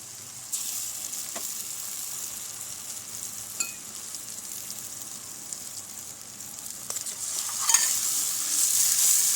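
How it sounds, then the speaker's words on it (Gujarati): Food stirred and mixed in a frying pan for a village-style recipe, with a continuous hissing sizzle, occasional spatula taps and scrapes, and the frying growing louder toward the end. "સરસ રીતે મિક્સ કરી લઈશું"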